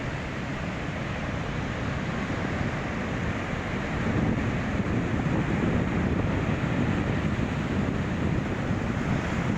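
Sea waves wash steadily onto the beach at Hannoville, a broad, continuous rushing surf with wind buffeting the microphone, growing a little louder partway through.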